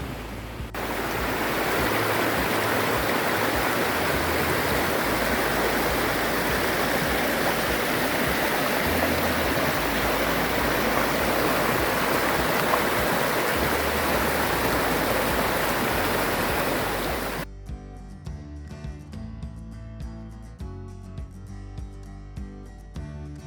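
Creek water rushes and splashes in a loud, continuous broadband flow beside Pinto Lake Trail, then cuts off abruptly into quieter music for the last several seconds.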